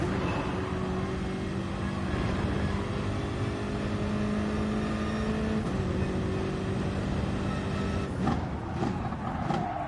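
A BMW M6 race car lapping the Nordschleife during an endurance practice session gives a loud, steady engine drone from inside the car, with tones rising through the gears and a brief shift near the end.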